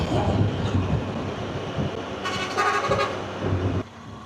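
A train horn toots amid the steady rumble of a passing train, a short blast standing out over the rolling noise before it fades.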